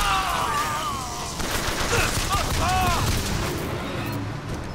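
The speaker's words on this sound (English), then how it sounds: "Oh, he's shooting at me." Enemy gunfire in the video game Bioshock Infinite crackles loudly and continuously in a dense fusillade, mixed with game effects and whistling tones.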